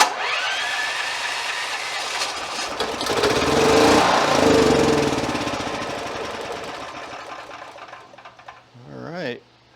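Small generator engine running after a repair, a loud mechanical roar that swells midway then fades toward the end, with a brief rattling burst near the close.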